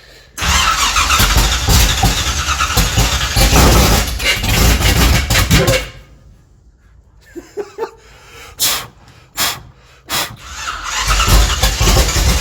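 A Chevrolet 383 V8 cranks hard and loud with a whining starter, then pauses with a few sputters and breaths, then fires and roars up close at the end.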